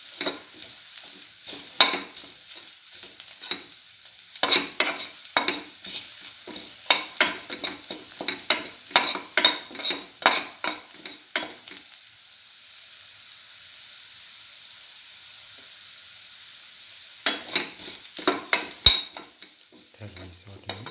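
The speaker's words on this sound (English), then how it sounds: "Keep on sauteing." Egg sautéed with cinnamon and mint in a pan, rapid repeated spatula scrapes and clinks over a soft sizzle, pausing into quiet frying before the stirring starts again near the end.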